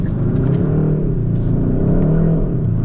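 A 2022 Kia K5 GT engine revs and accelerates loud and close, a smooth rising drone with steady harmonic tones, carrying on without speech.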